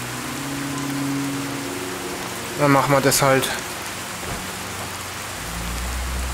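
Steady rain falls in the video game Fallout 4 VR, a constant hiss of drops that runs throughout, while someone speaks briefly over it in the middle.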